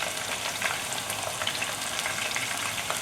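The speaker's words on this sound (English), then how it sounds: "We're gonna put all the shrimp in." Shrimp fry in a hot pan, giving a steady, close crackling sizzle with fine pops throughout, no voices.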